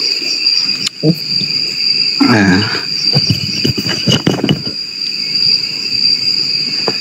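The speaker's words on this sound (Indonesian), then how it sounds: "Ini lagi ternak jangkrik." Crickets from a cricket farm chirp in a continuous high, steady trill throughout, under bursts of nearby talking.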